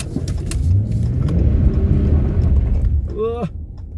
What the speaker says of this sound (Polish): ale silnik pracuje bardzo ładnie, bardzo ładnie, bardzo komfortowo